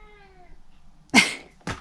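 A cat named Arlo lets out a short, close meow followed by a second brief chirp, after a soft tonal hum at the start and quiet pauses between.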